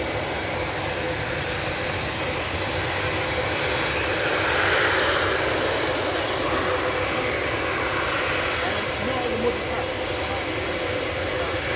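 Embraer jet engine roaring steadily at Manchester Airport, a loud broadband rumble that swells slightly midway and holds throughout with no talk over it.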